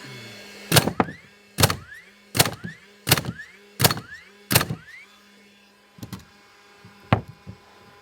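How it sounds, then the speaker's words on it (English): Dewalt cordless framing nailer bump firing six nails in a quick run, each a loud sharp crack with a short mechanical whir after, followed by a few softer clunks of handling once the firing stops. "We'll do the Dewalt first on the bump fire."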